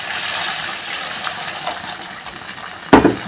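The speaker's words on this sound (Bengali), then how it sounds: "এবার আমি অল্প একটু জল দিয়ে দেবো।" A little water poured into prawn curry masala cooked with cashew nuts, onion and ginger: a steady close watery hiss, then a sudden louder splash near the end.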